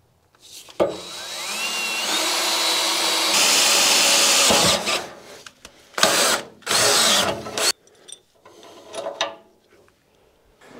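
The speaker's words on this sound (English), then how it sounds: "This might be the last hole I have to drill on this thing." A power drill whirs loudly up close drilling holes during a Caterpillar D4 rebuild, running in a long burst, then shorter bursts and stops, with rattling and handling clatter between.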